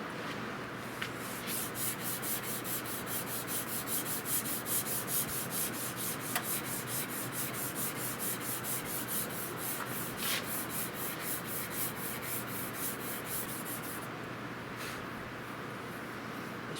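Sandpaper is rubbed by hand along a wooden stock for a Richland Arms 20 gauge shotgun, making a steady, close, rhythmic rasp of quick back-and-forth strokes that runs nearly without pause.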